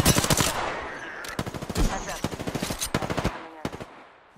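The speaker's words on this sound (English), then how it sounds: "Listen up, I'm getting shot at." Sustained automatic gunfire in the video game Apex Legends, rapid loud bursts of shots in quick rhythmic succession with brief gaps, close and dominant throughout.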